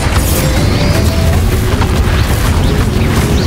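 A Confringo fire spell blast in Hogwarts Legacy, a loud sustained booming roar with crackling bursts filling the whole moment, dense and close with no break.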